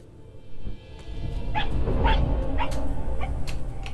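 A fox in the video game RIME gives a few short, sharp yips scattered over a steady low ambient background, with no talking.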